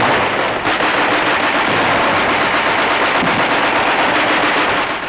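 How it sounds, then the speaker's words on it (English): Dense, continuous WWII battlefront gunfire with rapid machine-gun bursts and heavy artillery fire, a loud, unbroken wall of shots and blasts from Allied guns shelling Germany, with no pauses and no voices. "Those shells are landing in Germany,"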